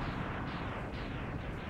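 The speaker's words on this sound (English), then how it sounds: "The explosion noise. It came back." Explosion sound effect from the 16-bit Mega Man X game: a dense, rumbling burst of noise that repeats in quick waves across the whole stretch, loud and alone.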